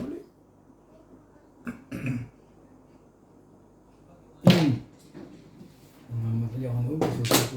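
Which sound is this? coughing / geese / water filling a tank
coughing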